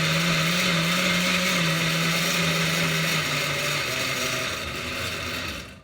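A blender running on its fast setting, a loud steady motor whine with a strong droning hum that holds nearly six seconds, easing slightly in pitch near the end before cutting off.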